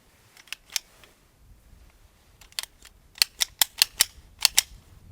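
HK P7 pistol fired, a scattering of faint sharp cracks followed by a rapid string of about eight loud, crisp shots in quick succession, heard alone without talking.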